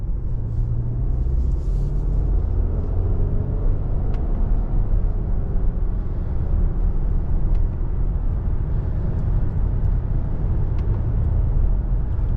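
A 2023 Subaru Legacy Sport with a CVT accelerating through simulated gear steps, giving a steady, loud engine and road rumble from inside the cabin that holds throughout without clear breaks.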